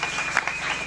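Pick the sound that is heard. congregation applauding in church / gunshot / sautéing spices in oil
congregation applauding in church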